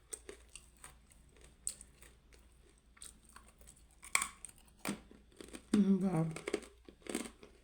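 Someone chews a crunchy pilipit snack up close, giving scattered crisp crunches and crinkly bites between quiet moments, with a brief spoken question partway through.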